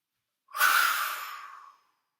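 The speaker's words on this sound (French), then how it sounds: "Troisième et dernière fois, j'inspire profondément." One deep, slow inhalation in a sophrology breathing exercise, a single close breath of airy noise lasting about a second, loud at the start and fading gently, with silence around it.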